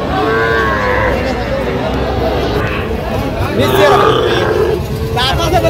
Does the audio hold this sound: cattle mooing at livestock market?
yes